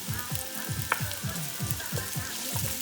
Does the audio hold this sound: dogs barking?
no